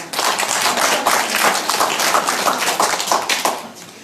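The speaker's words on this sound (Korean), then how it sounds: "우리 형제님들 대답에 만족하시면 박수 한번 보내주시기 바랍니다" Listeners at a Catholic Charismatic Renewal talk in Incheon give a round of applause, many hands clapping in a dense, fairly close burst that tapers off at the end.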